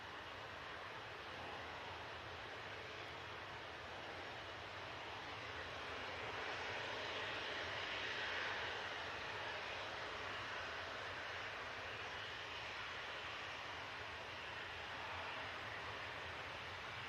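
Airliners passing at Manchester Airport, including a Hainan A330 and a Virgin Atlantic A350-1000: a distant, steady jet engine rumble that swells gently in the middle, with no voices.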